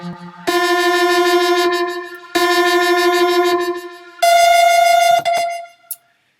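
A sustained synth note pulses with a fast tremolo, repeats, then jumps an octave higher before fading out; loud and close with no voices.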